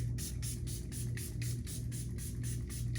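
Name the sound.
setting spray being sprayed onto face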